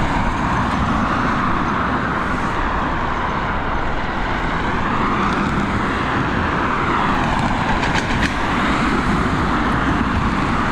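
A Boeing 777 at Dublin Airport gives a loud, continuous, broadband jet engine roar that holds steady throughout without any break.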